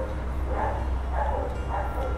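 Around three evenly spaced barks ring out from a dog some distance away at a stadium construction site during concrete pouring, set over a low, continuous background rumble.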